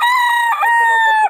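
A banded rooster crows once, close and loud, in one sustained call lasting just over a second.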